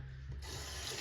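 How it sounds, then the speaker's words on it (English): A makeup brush rubbed back and forth against a soapy cleaning glove, a soft close wet rasping that grows brighter partway through, with no voices. "just rub it in my glove. And just kind of keep going back and forth"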